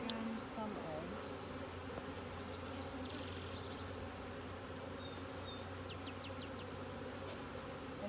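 Honey bees buzzing steadily and close during a beehive inspection among brood and honey frames, a dense continuous drone with a few faint chirps.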